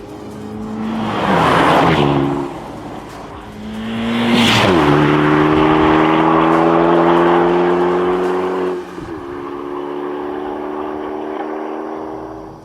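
Loud engine drone inside the stripped, unsoundproofed cabin of a Renault Megane R26.R hot hatch, revving up twice with strong rising harmonics, then a brief gear change dip before settling into a steady cruising hum.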